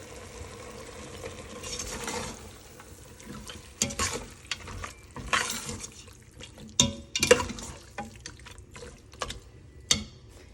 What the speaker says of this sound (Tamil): இப்போ கொஞ்சம் தண்ணி சேர்த்து மட்டனை குக் பண்ணணும்